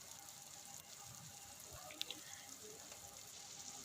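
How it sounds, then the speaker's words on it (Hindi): Chicken biryani masala with green chillies frying in a pan, giving a soft, steady sizzle and faint crackle throughout, fairly quiet with no voices. "अब हम इसको मज़ीद भूनेंगे"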